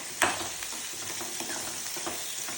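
Chillies sizzle and crackle in hot oil for a tempering, a steady frying hiss close by with a sharp spatter near the start and light stirring, no voices.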